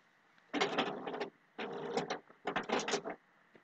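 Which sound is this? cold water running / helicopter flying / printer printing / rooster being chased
printer printing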